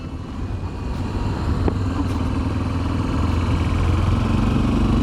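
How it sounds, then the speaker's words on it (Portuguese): Honda XRE 300 single-cylinder motorcycle engine running steadily at speed in a high gear, a continuous low throbbing drone with faint vibration, close and fairly loud with no talking. "Tem aquela vibraçãozinha do motor 1 cilindro"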